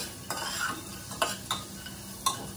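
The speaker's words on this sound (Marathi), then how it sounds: "मिरची नंतर आपण लसूण टाकून घेतला आणि त्याच्यानंतर वडी टाकली" Chilli, garlic and vadi frying in a pan while being stirred: a steady soft sizzle with three or four distinct scraping stirs of the spoon against the pan, close and moderately loud, no talk.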